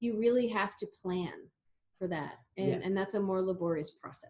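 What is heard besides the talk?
No everyday noises stand out.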